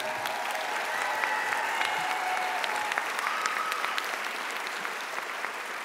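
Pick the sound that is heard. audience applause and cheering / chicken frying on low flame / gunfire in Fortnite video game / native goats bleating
audience applause and cheering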